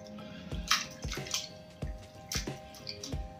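Grated raw potatoes are washed in cold water, with hands swishing and squeezing in a bowl and giving a series of wet splashes and drips in uneven pulses, close and moderately quiet, without talk.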